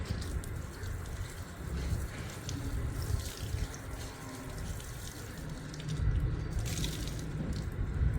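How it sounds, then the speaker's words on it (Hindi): Water from a tap running onto an old sock being wetted, a continuous close splashing gush with dripping and squishy wet sounds, swelling louder near the end. "इसको पानी से गीला करना है टूटी पे"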